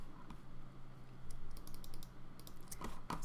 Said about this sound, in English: right here, I'm going to type in some hotkeys